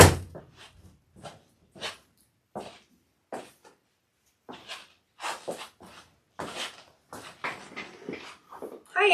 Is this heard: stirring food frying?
no